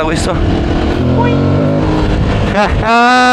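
An Aprilia motorcycle ridden over bumps and dunes, its engine whining and surging through rising and falling revs close by, with a voice calling out over it near the end.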